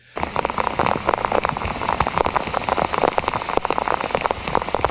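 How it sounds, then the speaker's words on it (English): Steady rain falls outdoors in Virginia, a dense continuous patter of drops hitting surfaces, fairly close and even in level throughout with no voices. "it's been raining like every day for the past year in Virginia"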